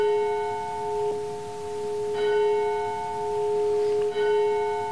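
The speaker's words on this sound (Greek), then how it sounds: "η καμπάνα της ησυχίας." A church bell rings with sustained, humming tones, struck again twice at even intervals, each strike renewing the shimmering resonance that lingers steadily in between, moderately loud and alone.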